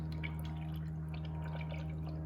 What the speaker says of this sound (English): With my funnel, what I'm going to do is I'm just going to pour